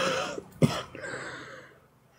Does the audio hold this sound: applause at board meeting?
no